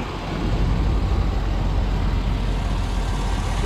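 A 2004 Chevrolet Silverado with a 5.3 V8 idles quietly, a steady low rumble holding even and unbroken throughout with no voices over it.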